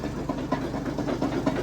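A petrol-engine cement mixer runs at high revs, its engine giving a loud, steady, close drone with a fast low throb and a churning rumble throughout.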